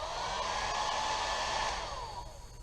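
A hair dryer on its low setting blows steadily at a moderate, fairly soft level, its whirring hum fading slightly toward the end.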